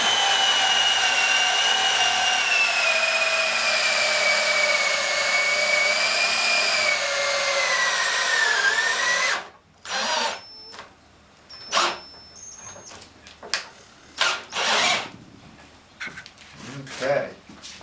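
A power drill whirs steadily for several seconds, its pitch sagging slightly before it stops, followed by scattered clunks and clattering.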